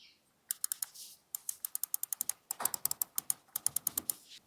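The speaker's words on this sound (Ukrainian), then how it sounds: "Бокові перемикачі це Huano 3M." Crisp mechanical clicks from HATOR Quasar 2 Pro Wireless mouse side buttons with Huano 3M switches come in quick irregular runs, close and clear, with short gaps between bursts.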